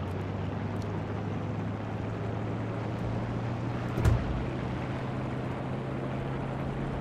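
Fighter plane engine droning steadily in a Battle of Britain air battle in War Thunder, a constant low roar with wind rush and one brief louder bump midway, no talking.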